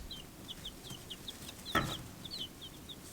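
Small bantam chicken mixes on a farm cluck in a steady string of soft, repeated calls, with one louder squawk partway through over a constant outdoor background hiss.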